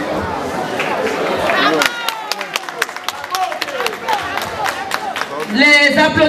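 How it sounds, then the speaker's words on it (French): Sparse, timid applause from an audience at a Miss beauty pageant ceremony, scattered individual claps over crowd chatter and talk, swelling briefly at the end. "Les applaudissements sont timides."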